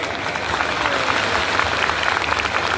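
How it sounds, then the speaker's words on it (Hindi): Audience applause at a speech by the Governor of Uttarakhand honouring the Assam Rifles DG, a dense, steady burst of many hands clapping, loud and sustained throughout, with no voices over it. "जोर से ताली बजाइए।"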